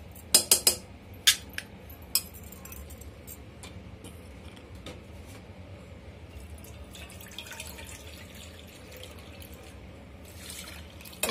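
Water drips and trickles into a pot of dal for sambar. A few sharp clinks of metal utensils come near the start, then there is a steady faint watery wash and more clatter at the end.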